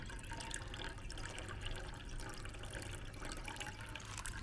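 Water pours steadily out of a rock tumbler barrel in a continuous broadband splashing rush, moderately quiet and close, with no talking over it for the full stretch.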